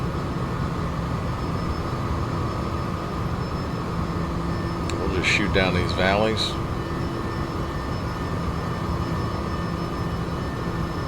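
A steady, droning engine hum of a fast helicopter in flight in the X-Plane 11 flight simulator runs throughout, with someone talking briefly over it midway.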